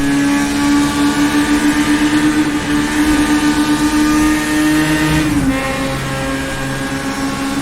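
A 1960s Formula race car engine in rFactor 2 revs at a high, steady whine as it accelerates, then briefly dips on a gear change and settles into a lower drone, loud and close.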